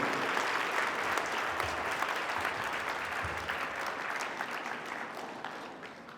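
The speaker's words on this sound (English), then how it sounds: "Let's give them a big round of applause." Sustained applause from an award ceremony audience at a foundation finals event honoring a volunteer team, steady and dense throughout, tapering slightly toward the end.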